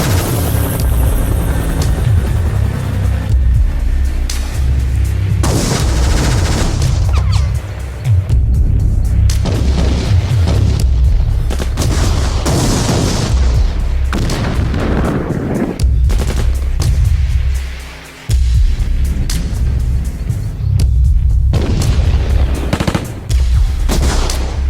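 Artillery and gunfire in a war scene, with dense booming blasts and rattling shots over a constant low rumble, loud and continuous throughout with brief dips, no voices.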